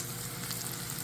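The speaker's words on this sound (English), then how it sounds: "We have finished frying up our onions" Onions fry in oil and butter in a pan, a steady, dense sizzle and crackle running throughout with no voices.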